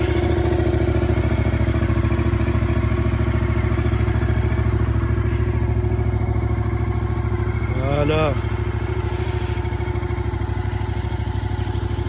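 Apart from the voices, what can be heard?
motorcycle engine running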